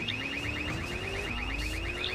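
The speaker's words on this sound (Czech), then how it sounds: "Vezmu tady autíčko. Samozřejmě, jak teda. S alarmem." A car alarm in the video game GTA 2 wails in a loud, rapid, repeating warble with a rising siren tone underneath, continuous and close, with no voices over it.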